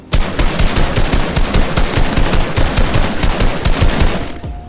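Pistol gunfire in Fortnite: a loud, rapid string of sharp shots cracking in quick succession for several seconds before stopping.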